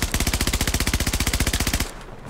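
Vault SMG fires a long, rapid, evenly spaced burst of loud shots in a video game, then stops abruptly, leaving a quieter ambient tail.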